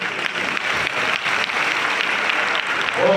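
Dense, loud applause from a large crowd at a public event, continuous and even throughout with no talking over it.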